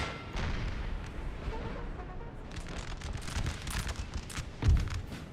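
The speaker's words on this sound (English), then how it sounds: "Cannons, new target." Cannons fire repeatedly in a video game battle: a string of booming blasts and sharp cracks over a rumbling background, with one heavier close boom near the end and no voices.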